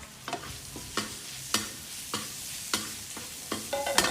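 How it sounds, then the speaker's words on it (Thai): Minced pork stir-fried in a pan, a spatula scraping in a regular rhythm of about seven strokes over a soft steady sizzle, close and clear, with no voices. "จากนั้นเอาหมูสับเอาหมูสับลงไปผัด"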